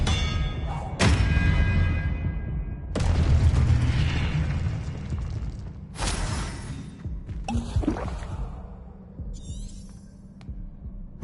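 Expelliarmus spells fire in Hogwarts Legacy combat as a run of loud booming bursts and thuds, each followed by a throbbing low hum, with sharp whooshing impacts between them.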